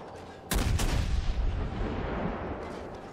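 A destroyer's naval guns fire in World of Warships, a loud booming salvo erupting abruptly and rumbling on for a few seconds before tapering off.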